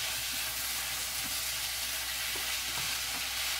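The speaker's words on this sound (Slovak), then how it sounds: "Mrkvu si premiešame" Carrots stirred in a pan for carrot rolls, a steady soft sizzle under a faint scraping motion, with a few light clicks of the utensil, close and continuous with no talk.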